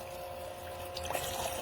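Water trickles and splashes steadily from the electric faucet of a toy play sink that recirculates water from its basin, with a soft constant pump hum and brief louder splashes near the end.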